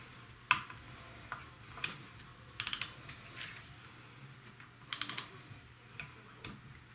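A torque wrench clicks while bolts are tightened during repair work on a 2006 Mercedes E350 (W211). Sharp, faint clicks arrive in small clusters of three or four against a quiet background, without speech.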